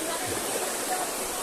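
A river flowing in the provinces, heard as a steady, full rush of water that stays even throughout with no breaks.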